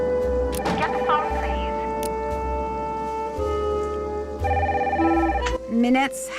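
A telephone rings repeatedly in the video game Nancy Drew: Danger by Design, its electronic trill sounding in steady bursts over a background music bed, with a voice speaking near the start.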